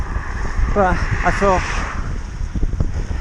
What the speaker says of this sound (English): Still bloody cold. Still really windy.